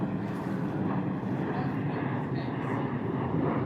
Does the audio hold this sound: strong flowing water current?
no